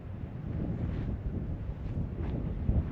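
Strong wind storm buffeting a Jeep used as a living space, heard as a loud, rumbling roar of gusts hitting the microphone, continuous and close, with no voices.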